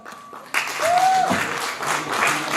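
Audience applause at the final of a Lumbini Lok Dohori folk-song award ceremony bursts in after a quiet moment and continues as steady, dense clapping from a large crowd.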